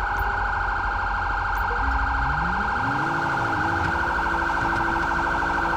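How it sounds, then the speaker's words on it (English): A police car siren in the video game GTA V wails steadily and loudly, its pitch sweeping up and down in a continuous electronic cycle, with an engine droning underneath. "Okay, you can turn off your down siren now."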